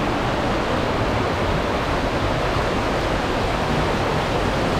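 A large waterfall in the Multnomah Falls area roars with a steady, broadband rush of falling water, loud and unbroken with no voices.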